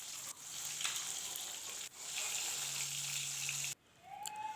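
Hilsa fish pieces fry in hot oil with a bright, continuous sizzle that drops away briefly twice as the fish are lifted out of the pan.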